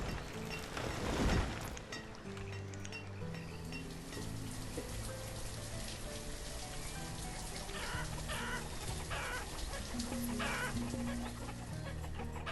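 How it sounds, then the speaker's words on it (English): Chickens in the village-building game Banished cluck on and off over a steady rain-like patter, the soft calls repeating irregularly at moderate distance. "Oh my god, who let all the chickens out?"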